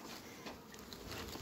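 Honey bees buzzing around hives in an apiary, a continuous droning hum that swells and wavers, close and steady with a faint patter, no voices heard.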